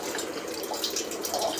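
Water rushing steadily through an RO filter membrane as it is flushed clean, a constant close hiss and splash of flowing water with no pauses.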